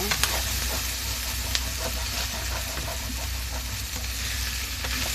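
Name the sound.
stirring sautéed petchay in a pan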